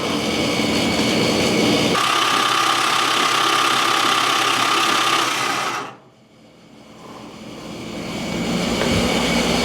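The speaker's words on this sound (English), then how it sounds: "God, that starter sounds so great." A 1969 Dodge Charger's starter cranks the engine in a loud, steady mechanical whir that cuts off abruptly after about six seconds, then a quieter rumble builds back up.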